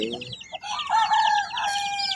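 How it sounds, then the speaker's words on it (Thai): A rooster crows nearby in a rural village setting, one loud, drawn-out call that rises and holds before trailing off, preceded by a few short clucks. "โอ้ไก่"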